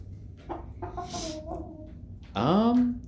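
A pet hen resting in a lap gives soft, low murmuring clucks, a few short warbling notes that end in a louder rising trill at close range, with a quiet voice nearby.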